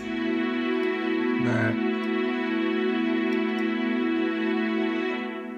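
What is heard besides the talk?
Hollywood Strings string ensemble in Omnisphere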